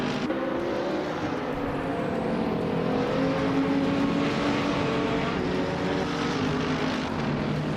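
Racing game engine audio of a 2010 Aston Martin Vantage GT4 and the surrounding field, a sustained loud droning engine roar with a slight pitch rise and no talk.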